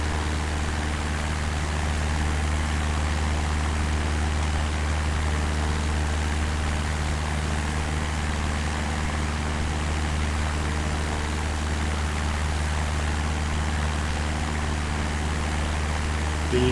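A light propeller aircraft flies over Cardiff Docks in South Wales, its engine a steady, loud drone with a low rumble that holds constant throughout, with no voices.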